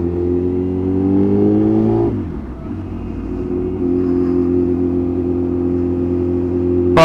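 A Yamaha FZ1-N motorcycle engine runs close and steady, with a brief drop in pitch and level partway through before settling back into an even, throaty drone with no talking.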